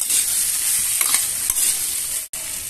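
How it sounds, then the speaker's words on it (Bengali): Cauliflower, potato and fish curry being stirred in a pan, a continuous wet scraping and sizzling with a couple of spatula taps, loud and close, with a brief cut near the end. "এইভাবে কিন্তু আমি ঢাকা দিব আর মাঝের মধ্যে খুলে এইভাবে নাড়বো, যাতে এটা তলায় বসে না যায়।"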